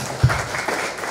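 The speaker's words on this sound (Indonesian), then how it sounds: "Kita berikan tepuk tangan dulu," Wedding guests break into applause, a brief burst of clapping with one sharp close clap near the start, then a busy patter that carries on to the end.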